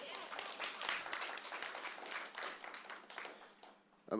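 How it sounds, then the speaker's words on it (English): Steady clapping from an audience at a disability council panel discussion in Jamaica, fairly faint and continuous for several seconds, ending with a louder rise. "Yes, you can give that a round of applause."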